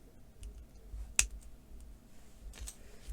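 Jewellery wire is trimmed with cutters in one sharp close snip, followed by faint handling clicks in a quiet room.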